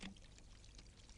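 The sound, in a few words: drink poured from a bottle, foaming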